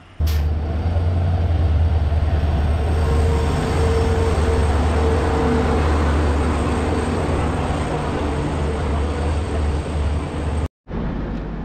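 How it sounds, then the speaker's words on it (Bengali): The Puri–Kamakhya train arriving at Sevok railway station in the hills of North Bengal, a loud continuous rumble and roar of the passing train lasting throughout, steady and close, cut off briefly near the end. "তো সেবক রেলওয়ে স্টেশনে এখন একটা ট্রেন আসলো, এটা হচ্ছে পুরী টু কামাখ্যা যে ট্রেনটা রয়েছে সেই ট্রেন।"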